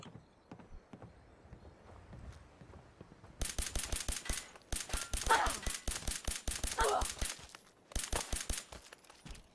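Rapid automatic gunfire erupts in Fallout 4, with several long bursts of sharp, loud shots separated by brief pauses and a few scattered single shots beforehand.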